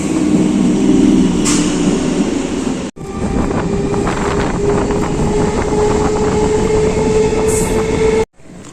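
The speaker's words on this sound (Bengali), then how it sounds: "আমাদের ট্রেন সবে ঢুকলো, চলে এসেছে প্ল্যাটফর্মে" The Hazarduari Express rumbles loudly and steadily past, with rattling wagons and a rising whine as it rolls into the station platform, no voices.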